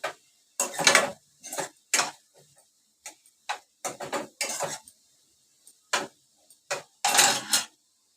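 A spatula scraping and knocking against a pan while methi bhaji is stirred in coconut oil, heard as irregular bursts of metallic clinks and scrapes with quiet gaps between them.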